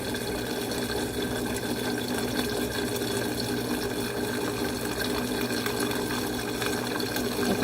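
Blender running at rising speed while emulsifying coconut oil into vegan butter, oil added a little at a time: a steady, dense whirring churn with a watery, sloshing texture, continuous and close with no voices.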